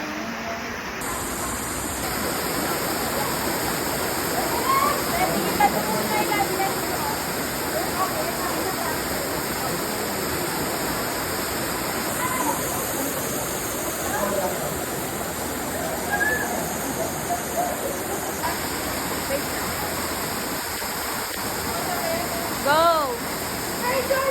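Kilangin Falls in Liliw, Laguna, a steady, full roar of falling water heard close by throughout, with people talking faintly over it now and then.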